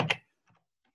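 A brief burst of computer keyboard typing, loud at first and then a couple of faint key taps before it falls quiet.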